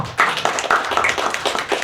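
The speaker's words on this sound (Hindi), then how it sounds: "एक बार इनके लिए तालियां बजा दीजिए" An audience claps at a poetry event in Ahmedabad, with a burst of scattered, fairly close hand claps that build into a brief round of applause, with no talk over it.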